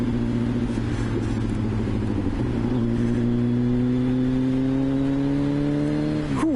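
A Kawasaki ZXR 750 H1 motorcycle accelerating on gravel, its engine note climbing through gear changes in a loud, close, rising whine that cuts off abruptly near the end.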